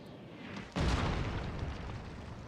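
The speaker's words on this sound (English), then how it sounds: "Union artillery is opening up on us" Artillery fire in the video game Shogun 2 during a battle, with one deep, loud boom that hits suddenly and then rolls away into a sustained rumble of battlefield noise.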